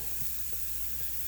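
Potatoes and garlic frying in a pan give a steady, dense sizzle and hiss, close and continuous with no talk over it.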